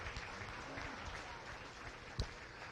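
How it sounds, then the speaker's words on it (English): Spectators at a county beef show give a round of applause for intermediate showmen, a faint, distant scattering of hand claps continuing in a large space, with one sharper thump near the end. "give a good round of applause to these intermediate showmen doing a really nice job"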